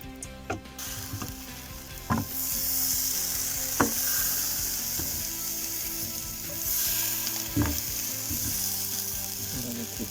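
Steady sizzling and crackling of food frying in a nonstick-coated steel pan, with a few clinks of a utensil against metal and occasional scraping.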